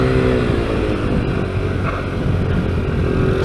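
A Honda NSF100 race bike runs steadily on a cool race track, its engine a continuous loud drone with a slight rise midway through a corner, no voices.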